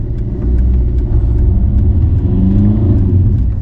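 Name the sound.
1.3 diesel car engine driving and accelerating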